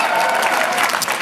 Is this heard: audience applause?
yes